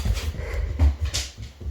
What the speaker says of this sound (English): My dog is actually kind of crazy because he just got a bath.